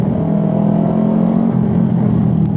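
A modified Yamaha R15 sport motorcycle with a loud aftermarket exhaust, a steady, throaty engine drone held at high revs, close and loud throughout with no voices.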